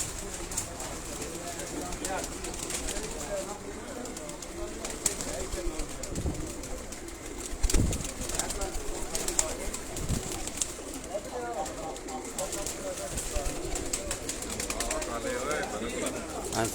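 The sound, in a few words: pigeons cooing, being prepared for competition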